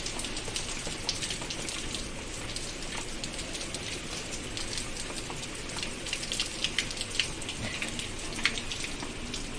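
Rain falls steadily, with individual drops pattering and tapping on a surface over a constant wash of rainfall.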